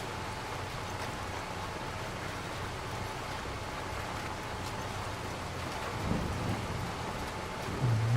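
Steady rain falls with low rumbling thunder during outdoor work, a constant hiss of drops over a deep grumble, with a brief heavier knock near the end and no talking.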